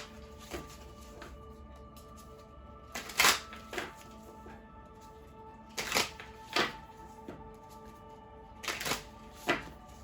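Wild Unknown tarot cards being shuffled, with several separate bursts of quick riffling and snapping spaced a few seconds apart, close and fairly crisp against a quiet room.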